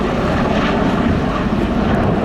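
A Bell Boeing CV-22B Osprey tiltrotor roars loud and steady at close range as its rotors tilt forward into airplane mode, a dense, unbroken drone of engines and rotor wash with no voices.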